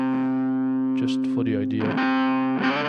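Electric guitar driven through a distortion pedal, sustained chords ringing loud and close with a brief burst of fuzzy picking in the middle, while someone talks briefly over it.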